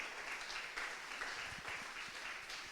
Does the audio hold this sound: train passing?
no